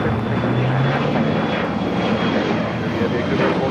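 A Japan Airlines Boeing 777-300ER heavy jet powers up for takeoff on runway 25 right at LAX, a loud, steady broadband engine roar with a low droning tone that holds from start to end.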